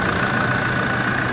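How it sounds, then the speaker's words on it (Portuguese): A 2017 Toyota Hilux engine idles steadily after a radiator cleaning, a loud, even, continuous hum close by with no talk. "e o motor tocando a sua melodia"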